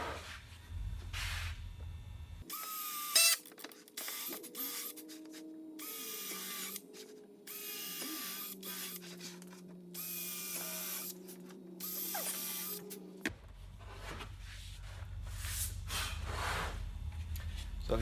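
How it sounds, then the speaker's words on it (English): A power drill whines in several bursts, its pitch shifting as it bites into wooden trim, with quieter clattering and handling noises between runs. "Now I'm going to drill some holes through this pattern"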